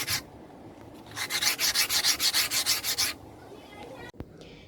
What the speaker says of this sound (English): The first step is to cut and sand the pieces of wood.